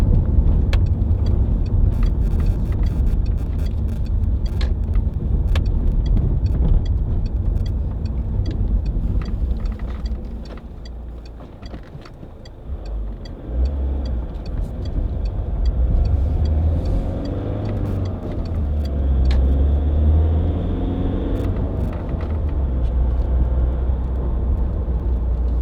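A 2007 Peugeot 807 2.0 HDi Executive diesel MPV on the road gives a steady interior drone of engine and tyre noise, easing briefly midway before building again, with occasional small clicks.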